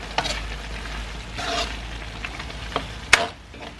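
Igado, an Ilocano pork liver dish, frying in a pan while being stirred, a quiet steady sizzle broken by spoon scrapes and a sharp clink against the pan near the end, heard close with no speech.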